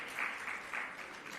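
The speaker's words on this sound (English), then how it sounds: "Give the proceedings a round of applause, please, all together" An audience at the official launch of Jamaica's medicinal cannabis special permit programmes applauds, a faint, short burst of scattered clapping heard from a distance.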